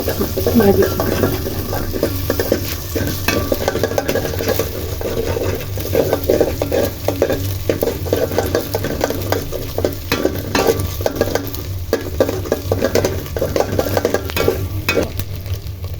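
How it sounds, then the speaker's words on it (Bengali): Salt being stirred into food in a frying pan while noodles are prepared, a steady close sizzle with continuous scraping and stirring strokes running throughout, loud and unbroken. "একটু লবণ দিয়ে দিলাম মিক্স করে"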